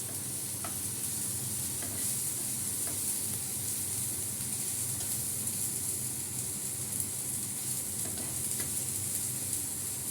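Chili powder and turmeric powder sizzling with frying potatoes in a pan, an even, hissing crackle held steady for the whole stretch, with faint stirring scrapes and no talk.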